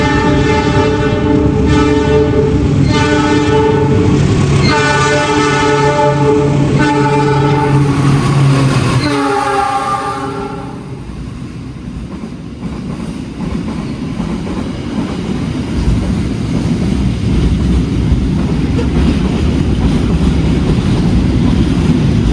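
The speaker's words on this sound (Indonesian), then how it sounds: "mari kita saksikan melintas langsung kereta api barang di jalur 3" A freight train rolls past on track 3 at a station, its horn sounding in long loud blasts before the heavy rumble and rattle of wagons continues steadily.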